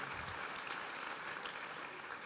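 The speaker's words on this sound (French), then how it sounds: "Bonsoir Philippe Germain, on peut l'applaudir." An audience applauds a winegrower at a 2019 awards ceremony, a short, faint burst of dense hand clapping without voices.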